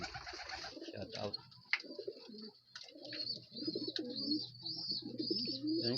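Young ringed pigeons coo repeatedly in soft, throaty phrases at close range, overlapping with chirps and a faint background hum, with no talk heard over them.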